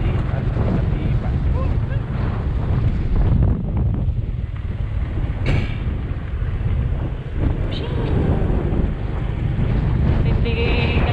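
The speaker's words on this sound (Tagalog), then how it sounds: "Lakas hangin." Strong wind buffets the microphone in an outdoor backyard setting, a steady loud roar with gusts throughout.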